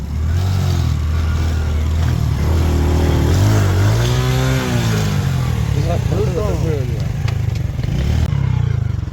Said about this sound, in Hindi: जंगल के अंदर मोटरसाइकिल रुक गया तो हम क्या करें? मजबूरी है, नीचे रेत है।